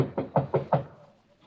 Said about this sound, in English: Better knock harder.